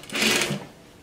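A sewing machine with a rolled hem foot runs a brief burst of a couple of stitches, a close whirring buzz that stops after about half a second.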